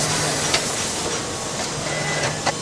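Inside a Crockett and Jones shoe factory, a machine pulls softened leather over a last, giving a steady mechanical hiss and hum with a few faint clicks throughout.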